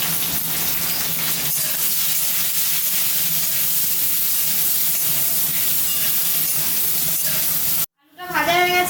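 Potatoes seasoned with salt and turmeric fry in a pan, giving a steady, close sizzling hiss that runs unbroken for most of the clip, then cuts out abruptly before a brief clatter near the end.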